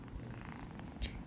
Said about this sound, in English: If you hear my little kitty cat purring